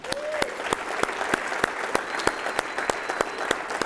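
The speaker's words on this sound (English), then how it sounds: "I want you to give yourself a round of applause" An audience at a keynote event claps together in a sustained, even round of applause, many hands close and lively throughout.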